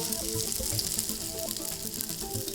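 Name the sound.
patty sizzling in hot frying oil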